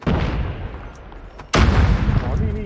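A sudden loud explosion-like burst erupts midway through a Call of Duty Mobile battle royale match, cutting through a continuous bed of rumbling, crackling gunfire and game noise.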